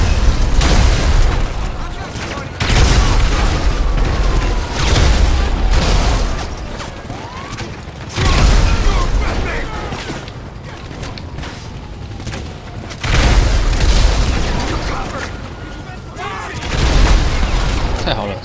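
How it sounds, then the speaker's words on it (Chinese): A car blows up in GTA 5 running a Legend of Zelda mod, with repeated loud booms and crashing bursts every few seconds over mechanical clatter and a low rumble. "太好了，车子被我炸了"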